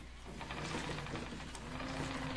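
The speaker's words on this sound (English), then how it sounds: "That's the spinning wheel and the creaking of the wood" A wooden spinning wheel whirs and creaks in the video game Shroud of the Avatar, a continuous mechanical rattle with rhythmic ticks and wood creaks, moderately loud over ambient background.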